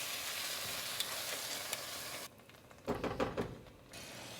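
Crushed tomatoes from a 28-ounce can being stirred into a pot of applewood smoked beef brisket chili. A steady sizzle shifts to a quieter stretch, then a brief wet burst of stirring and scraping, close, with no voices.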